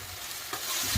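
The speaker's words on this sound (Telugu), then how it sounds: "ఇంతకుముందు తరిగి పెట్టుకున్న చుక్కకూరను వేసేసి కలిపేసుకుందాం." Chopped sorrel leaves are stirred into a frying tomato curry: a brief moist sizzle with a scraping stir that grows louder at the end.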